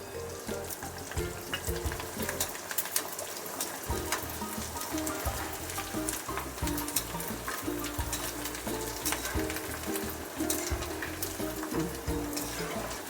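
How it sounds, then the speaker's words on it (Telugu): Rice flour and onion vadiyalu deep frying in hot oil on a medium-low stove, giving a steady, dense crackle that continues throughout with no voices. "ఇలాగ మనకి ఎన్ని అవసరం ఉంటే అన్ని వేయించుకుంటాం"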